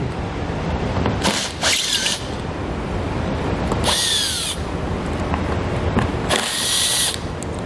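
A power tool with a T27 Torx bit whirs in three short bursts, separated by quiet gaps, while removing Torx bolts on a 2019 Alfa Romeo Stelvio during a trailer hitch installation.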